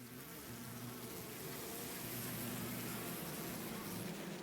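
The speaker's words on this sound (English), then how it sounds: "The bees that were hovering near the ceiling descended with a terrible cacophony of beating wings." A swarm of bees in the video game Last Defense Academy gives a dense, continuous buzz of beating wings that holds steady and loud throughout, with no talking.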